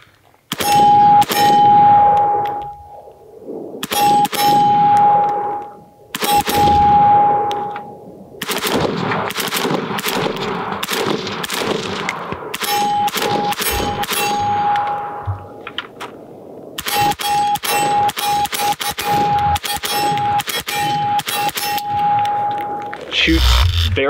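An AK rifle fires through a magazine in loud rapid bursts and strings of shots, with ringing metallic pings of rounds striking steel targets between the reports.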